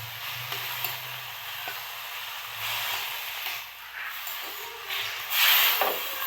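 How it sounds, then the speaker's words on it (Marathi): Green chillies frying and sizzling in a kadhai over a gas flame, with a steady hiss broken by brief stirring scrapes and a louder burst of sizzle near the end. "अशा पद्धतीने सर्व मिरच्या कढईमध्ये घातल्या आहेत आणि आपला गॅस"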